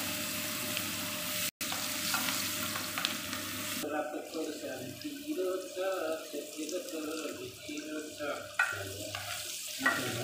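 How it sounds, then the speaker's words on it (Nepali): Potatoes fry in oil like french fries, starting with a bright, dense sizzle that then settles under close voices and some kitchen clatter. "फ्रेन्च फ्राई जस्तै गरेर यसरी भुट्ने आलुलाई"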